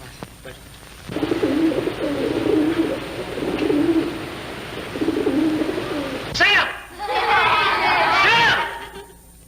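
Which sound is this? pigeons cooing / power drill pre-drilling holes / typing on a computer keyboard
pigeons cooing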